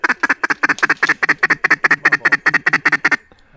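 Close and loud, a mallard gives a rapid, evenly paced run of about twenty quacks that ends abruptly, during a waterfowl hunt.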